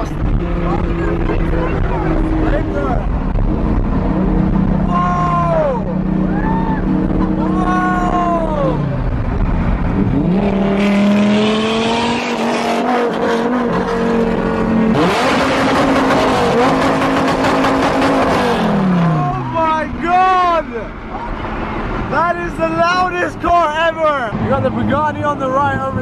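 A Bugatti leading a convoy of cars, engines revving and roaring in repeated loud accelerations that rise and fall, passing close, with people talking and shouting throughout.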